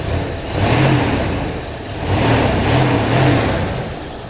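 A 46-year-old car's engine revs twice in swelling rises and falls, loud and close, with a rough mid-range growl between the pulls and no talking.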